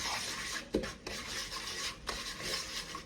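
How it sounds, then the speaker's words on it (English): Mustard, lemon juice and crab cake ingredients stirred in a bowl, a soft wet scraping and rubbing with a few light clinks of the utensil against the bowl, close and steady, no voices. "And we're gonna mix these ingredients."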